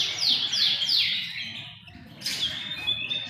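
A white-rumped shama (murai batu) sings close by, with a string of bright, rising whistled phrases, a brief pause, then a longer sustained whistling trill, all loud and clear over faint background noise.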